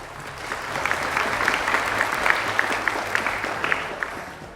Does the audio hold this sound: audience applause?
yes